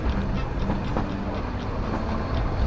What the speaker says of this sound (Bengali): 9:15 ট্রেন ছাড়লো। আমরা এখন উটি বা উদগামন্ডলম স্টেশনে।